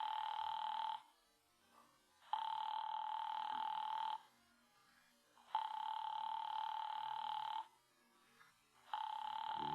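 An old-style telephone rings four times in long, even bursts with gaps between them, clear and unanswered, in a 1950s radio drama.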